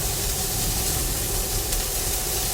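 Asparagus spears sear in an oiled pan with a steady, loud, even hiss and sizzle, close up and unbroken, no talk.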